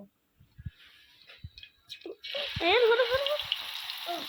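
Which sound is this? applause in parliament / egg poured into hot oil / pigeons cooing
egg poured into hot oil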